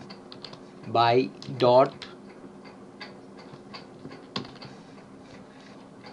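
Scattered light clicks of a computer keyboard being typed on, soft ticking taps spread across the clip, with a brief stretch of spoken words near the start.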